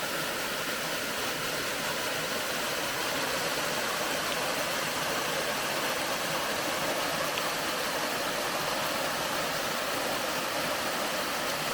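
Midway Falls on the Fall Creek Falls Trail in Mountain Rest, South Carolina pours with a steady, dense roar of rushing water, loud and unbroken throughout with no voices.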